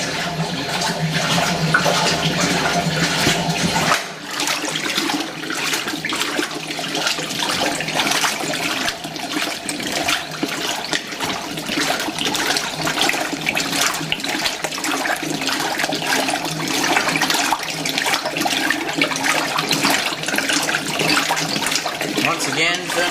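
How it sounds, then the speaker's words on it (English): Water rushes steadily into the fabric softener dispenser of a Fisher & Paykel Smart Drive GW712 washing machine, a continuous loud splashing flow that holds for the whole stretch after a brief initial shift. "Once again, filling up the fabric softener dispenser"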